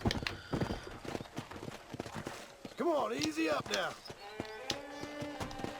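Rhythmic clip-clop of horse hooves in the video game Red Dead Redemption trots along steadily, with a brief whinny and voices talking over the hoofbeats.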